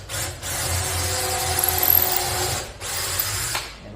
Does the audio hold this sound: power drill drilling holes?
yes